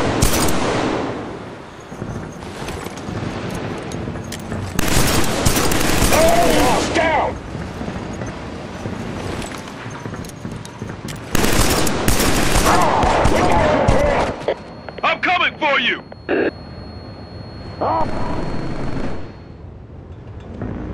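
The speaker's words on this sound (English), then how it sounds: "suppressing fire. Engage." Rapid gunfire and explosions from the video game Killzone 3 come in loud, dense bursts with short gaps, while voices call out over the shooting.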